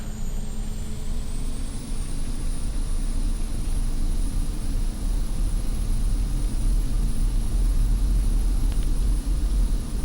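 Twin turboprop engines of a King Air C90B roar steadily during the takeoff roll at Portland International in the X-Plane flight simulator, a continuous broadband rumble with a high turbine whine, constant and close, no talking.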